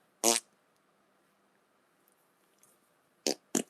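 Three short farts break a quiet room: one loud, buzzy burst near the start, then two quicker blasts close together toward the end.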